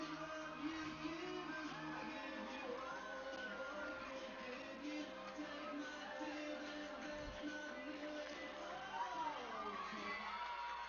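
A JV and varsity cheer squad cheers and shouts continuously at a high school football game, layered voices with a crowd around them, steady and somewhat distant.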